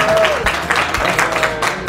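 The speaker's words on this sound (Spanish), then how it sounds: "Alberto Collado de Verdad o Reto, por favor, un aplauso." Clapping and cheers from a large open-air crowd at the Mexico City Pride march as performers are introduced, dense and continuous with crowd noise and a faint whistle mixed in.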